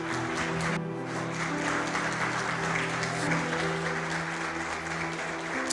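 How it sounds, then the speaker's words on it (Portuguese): A church congregation claps in steady, dense applause at an evening Sunday service, loud and continuous throughout with no talk over it. "Será que você pode aplaudir esse Deus?"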